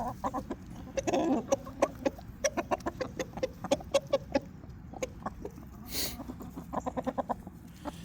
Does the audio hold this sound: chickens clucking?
yes